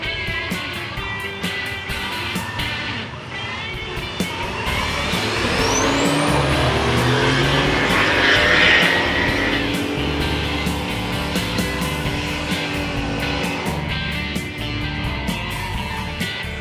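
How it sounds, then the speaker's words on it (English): A Chevy pickup truck roaring down a dragstrip at a drag racing reunion in Orange, its engine note building in pitch and loudness as it passes, then fading against continuous crowd and track noise. "listen to the Chevy pickup when it comes screaming by"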